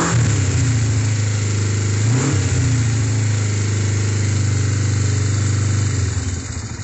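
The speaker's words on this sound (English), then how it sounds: "Idling so nice. Nice little twin 500cc, guys." Kawasaki Ninja twin-cylinder 500cc motorcycle engine idling steadily with the choke partly on through a new twin exhaust, a close, even low rumble with one brief blip before settling back.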